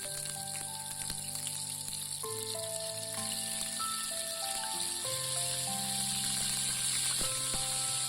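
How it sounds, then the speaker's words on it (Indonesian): Fish frying in hot oil gives a steady, even sizzle and crackle heard close up, while soft background music plays underneath. "ikannya kita goreng terlebih dahulu ya teman-teman"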